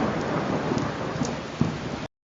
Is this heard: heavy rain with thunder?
yes